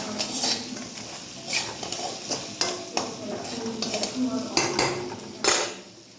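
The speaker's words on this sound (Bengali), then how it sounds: "ভালোভাবে নাড়িয়ে দেবো, নেড়ে দেবো" A spoon scrapes and clatters against a metal pot while crabs coated in turmeric are stirred, with repeated sharp knocks over a faint frying sizzle, close and fairly loud.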